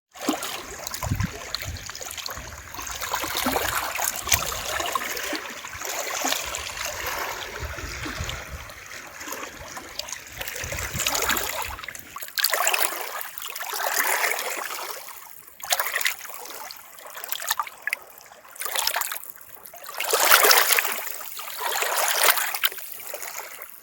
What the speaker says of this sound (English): let's just enjoy the awesome sound of the waves